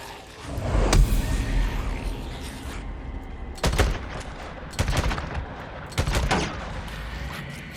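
Gun blasts in Days Gone, coming as several loud, punchy shots in separate bursts with echoing tails over a quieter rumbling background.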